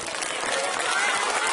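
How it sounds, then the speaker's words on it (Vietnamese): Students clap their hands in a dense, loud burst of applause throughout, with crowd noise mixed in. "Vỗ tay cao lên."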